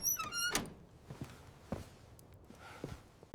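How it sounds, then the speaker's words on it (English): A squeaky metal hinge creaks, then a cold, empty cast iron stove door thunks open with a few soft clanks, quiet and close in a still room. "He opened the iron door, empty, cold, but it held the promise of heat."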